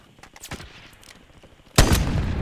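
Gunfire in the Call of Duty video game: a loud burst of shots erupts near the end after quieter, scattered game noise, with shots continuing densely to the close.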